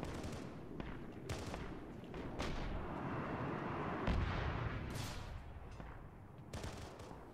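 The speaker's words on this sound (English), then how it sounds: "Rockets are doing a good job blowing shit away." Rocket explosions and gunfire in the battle game Arma 3, with repeated booming blasts and sharp shots over a steady rumble. The bursts are irregular and some sound distant, with no talking.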